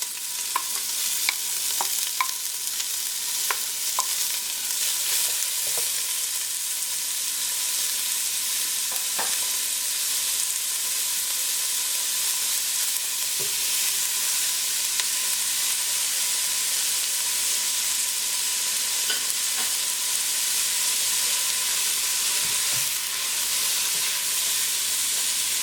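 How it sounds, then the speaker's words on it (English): Onion frying with bay leaves, cumin, oregano and salt for a vegetarian chili gives a steady, even sizzle throughout, with a few faint clicks of stirring and no voices. "So we're basically going to be cooking this mixture until our onions are nice and tender."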